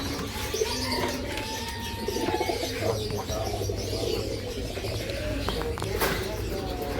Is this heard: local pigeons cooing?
yes